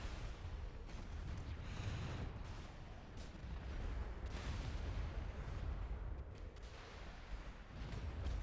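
Weapons fire continuously in the space strategy game AI War 2, a dense, rumbling barrage of booms and crackling blasts that rolls on without pause, steady and moderately loud with no voices.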